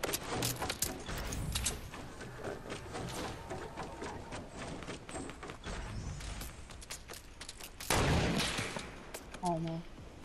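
Gunfire in a multiplayer video game battle among forts: scattered sharp shots and bursts, mostly distant and moderate, running under a player's talk with a louder burst near the end.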